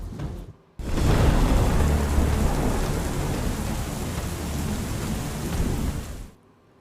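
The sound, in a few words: heavy monsoon downpour with thunder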